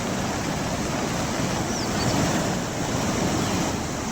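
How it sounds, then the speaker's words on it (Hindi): Floodwater surging along rain-soaked Mumbai roads during heavy monsoon rain, a loud, steady broadband rush of flowing water that holds without a break throughout. "बारिश के चलते सड़कों पर सैलाब उमड़ता हुआ आपको दिखाई पड़ रहा है।"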